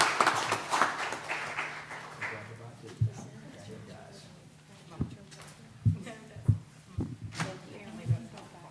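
Applause at a school board meeting: a brief patter of clapping opens the stretch and fades within a couple of seconds, then people talk with scattered knocks and bumps.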